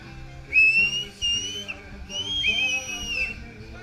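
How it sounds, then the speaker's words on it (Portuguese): A person whistles a short tune in two clear bursts, close and fairly soft, with light background noise between the phrases. "Sabe assobiar? Sabe assobiar? Assobia"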